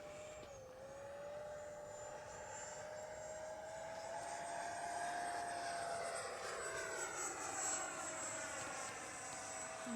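FMS 80mm Dassault Rafale RC jet flying a Cuban 8 loop manoeuvre, its ducted-fan whine sweeping and shifting in pitch as it passes, swelling and fading at moderate distance with no talk.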